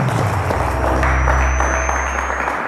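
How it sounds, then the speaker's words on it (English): Studio audience at a televised quiz show gives a sustained round of applause and cheering, loud and close, with a steady low hum beneath the clapping. "Ladies and gentlemen, a round of applause for Paul."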